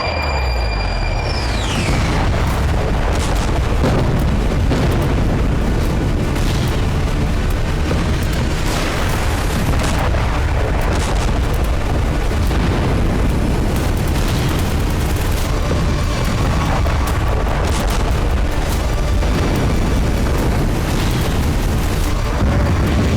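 Loud, dense rumbling booms and blasts from airstrikes in Lebanon, rolling continuously with repeated heavy impacts over a sustained roar, no voices.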